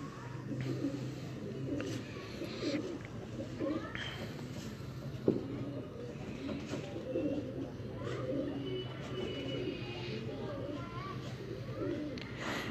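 Pigeons coo softly in a loft in Faisalabad under steady outdoor murmur, with faint voices and a single sharp knock partway through.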